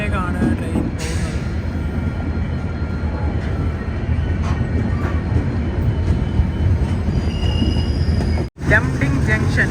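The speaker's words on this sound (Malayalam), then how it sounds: "ഒന്നാം നമ്പർ പ്ലാറ്റ്ഫോമിലേക്കാണ് ട്രെയിൻ പോകുന്നത്." The Vivek Express rolls onto platform one at Lumding Junction with a steady, loud rumble and rattle of carriages and faint wheel squeal, broken briefly by a short gap near the end.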